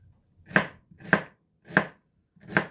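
Four evenly spaced knife chops through half an onion on a cutting board, each a sharp, close thud with a crisp edge, no voices.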